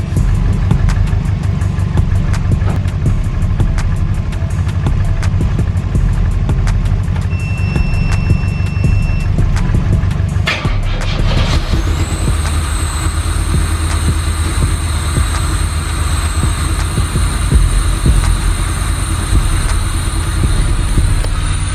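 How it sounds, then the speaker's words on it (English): A home-built Ferrari 355 replica on a Pontiac Fiero chassis runs with its engine idling nearby, a steady low rumble that continues throughout, joined partway by a higher whine after a brief transient. "I'll shut down the Subaru so you guys can have a good listen to this car."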